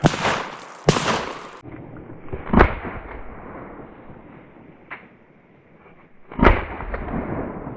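Sharp shotgun blasts during a woodcock hunt: a loud close report near the start, then another at about two and a half seconds and a strong one near six and a half, each with a brief echo over quiet forest ambience.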